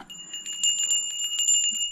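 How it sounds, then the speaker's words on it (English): A small brass bell rings repeatedly, bright sustained tones shimmering in quick shakes, close and clear throughout. "And a brass bell."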